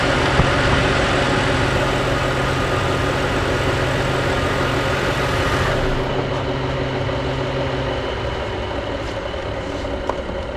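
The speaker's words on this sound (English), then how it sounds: "So what you can hear now is the AC fan spinning down." On a BMW E92 325i with an N52 engine, the AC fan spins down after the engine is switched off, a steady loud whirring hum with a buzzing tone that gradually softens and loses its upper edge as it winds down.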